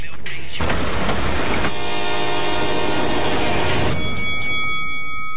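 A train passes loudly and close on railroad tracks with a rushing, clattering roar. Near the end, a sustained multi-tone horn blast sounds and then a second short one.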